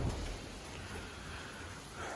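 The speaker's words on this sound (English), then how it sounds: "raining like so" Steady rain hisses outside a garage, a faint, even wash of patter with a slightly heavier gust at the start and near the end, and no voices over it.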